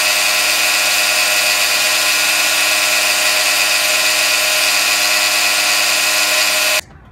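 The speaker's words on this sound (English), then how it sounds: "I'm going to make sure as I cut that I stay to the outside of this line." Rockwell BladeRunner X2 portable tabletop saw cutting wood for a cutting board, a loud, steady high-pitched whine that runs continuously before stopping abruptly near the end.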